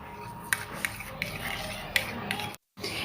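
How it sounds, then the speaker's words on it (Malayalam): Beaten egg seasoned with black pepper and salt being whisked in a bowl for an egg potato casserole: soft scraping and rubbing with a few sharp clinks of utensil against the bowl, closely recorded, broken by a brief silent gap. "ഇനി ഇത് നന്നായിട്ടൊന്ന് നമുക്കൊന്ന് മിക്സ് ചെയ്യാം."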